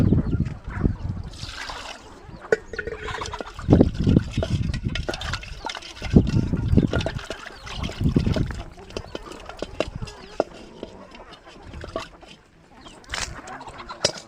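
Water splashes and trickles into a chicken waterer in uneven spurts while chickens cluck and murmur close by.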